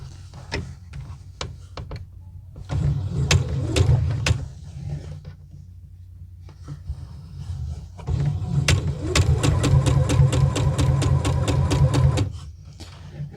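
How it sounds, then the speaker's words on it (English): A home sewing machine stitches close to the pocket edge of a Louise dress in two rhythmic runs of fast mechanical clatter, with a few isolated clicks at the start and a quiet pause in between. "I'm going to sew as close to the edge as possible"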